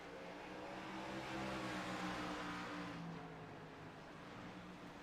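A race car in a Legacy Series event accelerates around the racetrack, its engine a steady, loud, buzzing drone that swells slightly and then holds. No one speaks over it.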